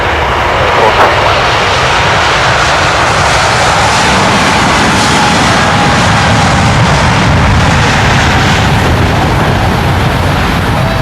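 Air France airliner jet engines roaring steadily through a takeoff roll on runway 25 at SJO, a loud, continuous broadband rumble with a faint rising whine, sustained throughout with no pauses.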